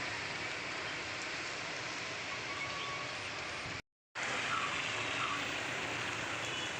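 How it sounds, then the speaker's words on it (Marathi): Rain falling steadily beside a roadside stop in sunshine, a dense even hiss that holds throughout, broken only by a brief silent gap partway through. "पाऊस सुरू झाला आहे म्हणून थांबलो आहे साईडला."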